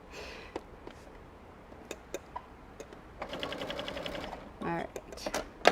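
A sewing machine stitching a quilt with pre-printed batting runs in short bursts of rapid mechanical ticking and whirring, broken by scattered clicks and light handling noises, with soft voice sounds mixed in.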